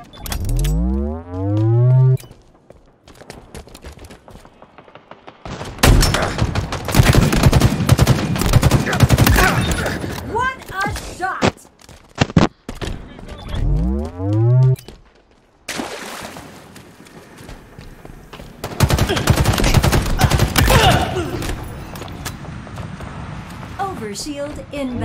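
Gunfire in the video game Halo Infinite, loud bursts of rapid shots coming in two long stretches with tonal sweeps and game effects between them. Voices from the game speak at points.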